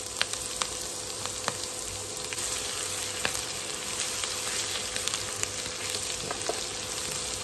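Chopped green chili, garlic and ginger fry in oil over a medium flame, giving a steady, close hiss dotted with small pops and crackles.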